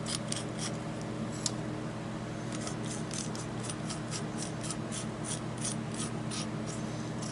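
Tightening a Moen cartridge puller gives a steady run of small rasping, ratchet-like clicks at an even rhythm over a constant mechanical hum, close and moderately loud.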